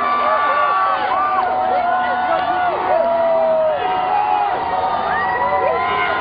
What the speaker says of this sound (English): Just take a listen to this crowd.